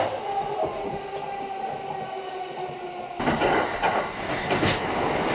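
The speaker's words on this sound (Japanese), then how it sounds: "錦糸町駅に間もなく到着。" A train rumbles along with a steady hum and squealing wheels as it approaches Kinshicho Station in Tokyo, then grows louder and rougher with clattering as it moves on; no voices.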